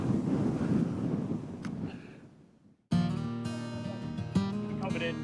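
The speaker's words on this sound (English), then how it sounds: "It's too windy." Strong Florida wind buffets an outdoor microphone in a loud rumbling roar, fading briefly before a sudden cut to a louder, steadier blustery stretch.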